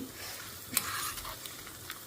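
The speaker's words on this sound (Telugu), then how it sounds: "సో పోపు అయితే వేగుతుంది" Continuous crackling sizzle of spices frying in oil, with a few sharp pops and faint utensil scrapes, close and steady.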